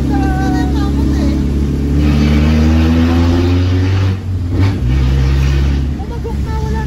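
A family car's engine revs loudly and steadily, its low rumbling harmonics rising and sustained throughout, close and dominant, with a brief dip midway.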